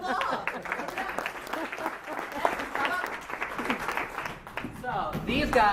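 Summer drama camp audience clapping, a moderate patter of applause mixed with lively talk and children's voices, rising again toward the end.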